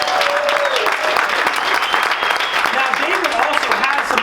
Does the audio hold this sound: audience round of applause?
yes